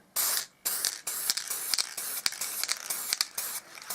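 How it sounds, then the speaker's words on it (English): Short bursts of clear lacquer aerosol spray hiss close by, one long blast followed by a series of quick, uneven sprays. "What I'm doing is I spray"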